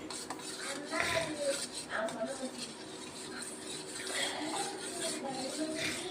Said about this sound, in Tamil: நல்லா கலக்கி விட்டாச்சு